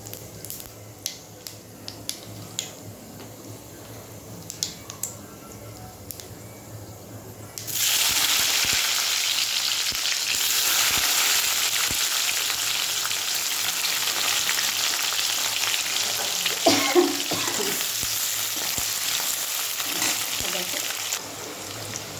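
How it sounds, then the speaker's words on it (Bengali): Onions dropped into hot oil in a pan, quiet clicks and light taps giving way at once to a loud, steady sizzle that carries on, with a brief burst of stirring and spattering partway through. "এবার আমি পেঁয়াজটা দিয়ে দেবো।"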